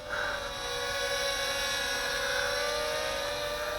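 A Fineco FX-3 quadcopter drone flies with a steady, high-pitched whine from its small motors, constant and moderately faint throughout, with no voices.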